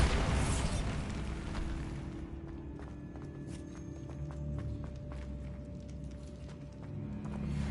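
Bombarda explosion spell going off in the video game Hogwarts Legacy, a loud burst at the start that trails into a long rumbling tail under scattered game effects and tones.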